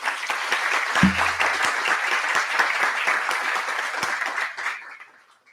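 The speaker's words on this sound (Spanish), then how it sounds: "Recibamos con un aplauso a nuestro invitado." An audience applauds steadily to welcome a guest at a formal talk event about a Colombian health insurer, dense clapping filling the room before fading away at the end.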